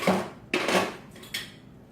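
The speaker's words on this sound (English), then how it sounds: "now I need to whisk this" A whisk works through chocolate zucchini bread batter in a bowl, making three or four quick clinking, scraping strokes against the bowl side, close and moderately loud.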